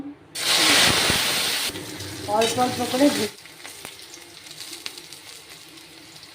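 Small mourala fish dropped into very hot oil burst into a loud, close sizzle that fades to a gentler crackle, and someone speaks briefly over the frying.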